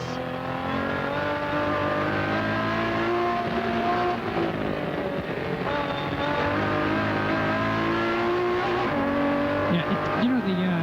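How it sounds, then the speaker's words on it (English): Shelby Dodge Pro Series race cars roar and rev continuously on the Dallas street course in 1994, engines whining through gear changes with occasional tire squeal, loud and close, while a voice talks over the din. "listen to the sounds of racing at the Dallas Street Course"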